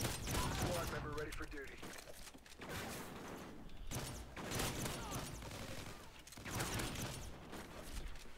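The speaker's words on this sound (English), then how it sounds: "it is a quick double tap shotgun" A Bulldog shotgun fires quick double-tap bursts in a PC shooter game, the sharp blasts coming in rapid pairs amid busy game noise, with a player talking over the action.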